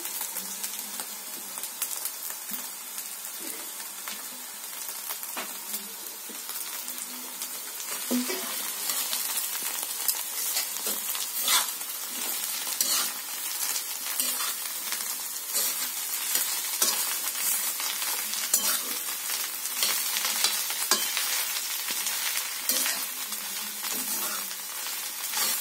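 Boiled elephant foot yam goes into onions frying in a pan on a wood-fired stove, giving a steady close sizzle with scraping stirs throughout, and no talk.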